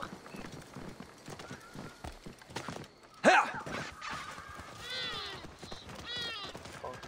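Horse hooves clip-clop at a gallop in Assassin's Creed Origins, a steady rhythmic patter of moderate loudness that runs through the whole stretch, mixed with other game sounds and a sharp louder burst midway, with someone talking over it.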